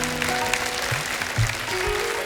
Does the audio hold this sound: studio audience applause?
yes